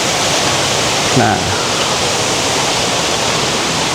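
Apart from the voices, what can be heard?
clear river stream flowing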